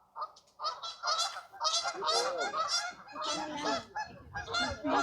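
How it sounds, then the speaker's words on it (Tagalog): A noisy flock of ducks at a zoo honking and quacking over one another, loud and near, in continuous overlapping bursts. "Daming pato."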